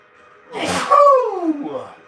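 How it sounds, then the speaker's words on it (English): A single sneeze with a sharp inhaled build-up and a loud burst, followed by a trailing voiced sigh, close to the microphone. "Ooh, I'm gonna sneeze."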